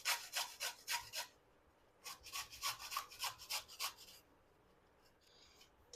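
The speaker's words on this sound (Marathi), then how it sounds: "आता ही कैरी आपण अशी किसून घेऊयात" Raw green mango is grated by hand in quick rhythmic rasping strokes, two fast runs of close scraping rubs separated by a pause, fairly quiet and with no talking.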